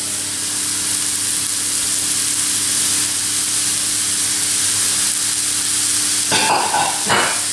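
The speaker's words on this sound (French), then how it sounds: "je les fais colorer dans tout ça jusqu'à ce que les légumes soient translucides" Spaghetti-cut courgettes and carrots fry in a pan, a loud continuous sizzle and hiss with a couple of brief stirring scrapes near the end.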